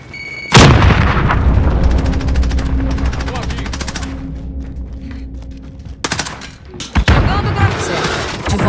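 In Call of Duty: Modern Warfare, a thrown grenade goes off with a sudden loud, booming blast. Its rumble trails away, then sharp bursts of close gunfire crack out near the end.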